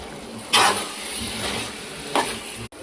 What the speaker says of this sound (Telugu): చికెన్ మగ్గింది కనుక ఈలోగా చిన్న మంటలో పెట్టి చికెన్ వేపుదాం